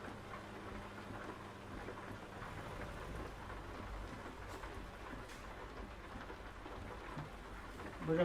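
Steady rain with low rolling thunder in the American Truck Simulator driving game, a continuous hissing downpour with a rumble swelling at the end.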